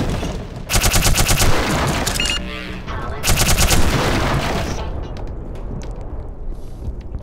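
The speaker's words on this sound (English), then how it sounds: "This gun here, I can shoot up everything and have all the load of fun." Automatic gunfire from a weapon in the video game Black Mesa, loud rapid bursts of shots in two long volleys with a brief pause between, then a fading tail.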